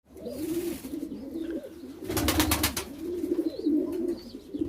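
Pigeons in a loft cooing repeatedly in low, soft, throaty phrases, close by, with a brief burst of wing flapping or rustling partway through and faint chirps in the background.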